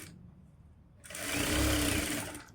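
Sewing machine stitching a blouse lining starts up after a quiet second and runs in a loud, steady whirring burst for about a second and a half before slowing.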